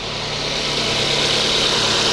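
A car engine idles during an oil-system flush after oil mixed with antifreeze, a steady, loud, close rumble with a constant low hum and no voices.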